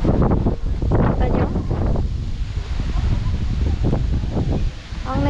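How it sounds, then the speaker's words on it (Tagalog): Strong wind at a resort in Tanay, Rizal, buffets the microphone with a constant low roar and rumble, while people talk over it throughout. "Lakas ng hangin, no?"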